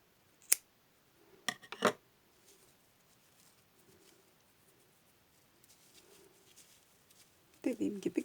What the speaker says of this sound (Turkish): Bu şekilde yapıp bir zincir çekip hemen ipimi kesiyorum.